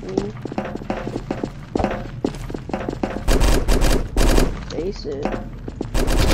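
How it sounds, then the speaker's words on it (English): Rapid automatic gunfire from a video game, loud bursts of shots repeatedly hitting an enemy, with a voice speaking briefly over the shooting. "After shooting him that many times."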